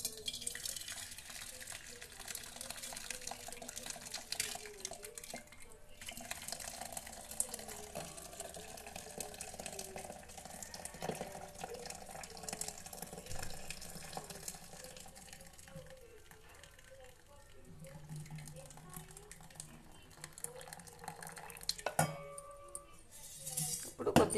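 Boiled tomatoes separated from their cooking water in a kitchen, with clinks of a metal vessel, sloshing and dripping water over several seconds while a voice speaks now and then.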